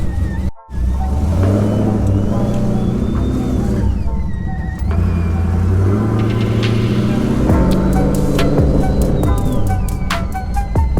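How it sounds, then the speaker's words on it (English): A Pontiac G8 being driven with a large exhaust leak, a close, loud, rumbling engine with shifting tones as it rises and falls in revs, plus a brief dropout near the start. "I do have a big ass exhaust leak, so that's what that is."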